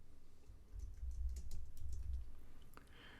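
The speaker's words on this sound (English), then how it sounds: "Type any text in the editor window. I will just write test number 1." Quiet typing on a computer keyboard, a short run of soft key clicks entering text in an editor, close and alone.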